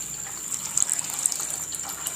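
Water pours steadily from a vessel onto granulated sugar in a pan to make syrup for boondi laddu, a continuous close splashing hiss with no voices.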